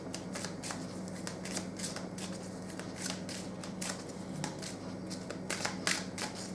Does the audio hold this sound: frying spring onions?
no